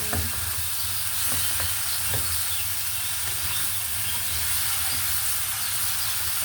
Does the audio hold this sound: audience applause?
no